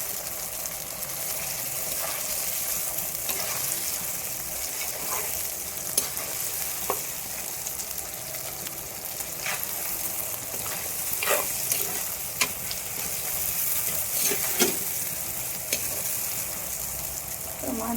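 Tomatoes sauté in a pan for a country-chicken fry, giving a continuous close sizzle and bubbling with occasional stirring clicks and scrapes running throughout.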